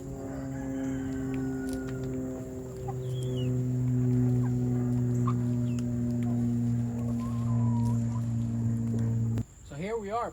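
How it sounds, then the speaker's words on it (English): Backyard chickens cluck and chirp in short scattered calls over a sustained, steady tonal drone, ending with a wavering burst of sound. "Look at my chickens, man"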